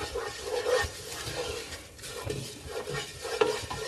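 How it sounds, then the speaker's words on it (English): Flour-thickened soup stirred in a pot, soft repeated scraping and swishing of a spoon with faint bubbling, close and moderate in level, no voices. "you wanna continue to stir this as it cooks so that it blends"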